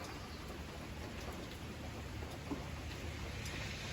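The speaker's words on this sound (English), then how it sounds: "came out here to sit and watch it rain." Steady rain falls outdoors on a cool day, a dense, even hiss of drops spattering on surfaces, close and continuous throughout with no voices.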